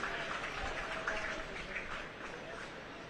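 Crowd applause at a rugby match between Northampton Saints and the Barbarians, a steady wash of clapping from nearby stands that continues evenly for a few seconds with a faint commentary voice underneath.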